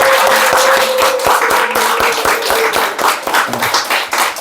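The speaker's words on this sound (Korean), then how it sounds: "환영의 박수로 우리 환영해 줬으면 좋겠어요." Church congregation at a Sunday morning service claps in welcome, a close, loud round of applause with distinct hand strikes that thins slightly toward the end.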